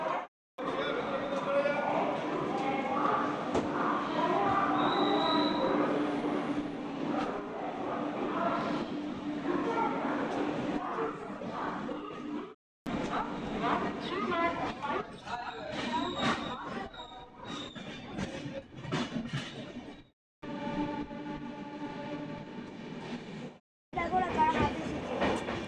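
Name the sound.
moving train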